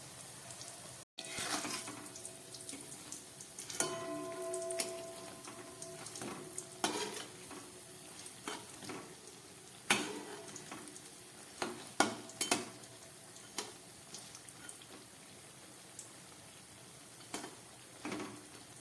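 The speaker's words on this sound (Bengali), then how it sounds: "একদম গ্যাস কম করে এগুলোকে খুব ভালো করে আমি ভেজে নিচ্ছি।" Pointed-gourd vegetable koftas fry gently in oil over low heat with a soft, steady sizzle, punctuated by intermittent clinks and scrapes of stirring and a brief pause near the start.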